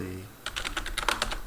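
Quick, close bursts of keystrokes as a sudo reboot command is typed on a computer keyboard to restart an upgraded Red Hat Enterprise Linux 8 server running in VirtualBox, beginning after a short quiet lead-in.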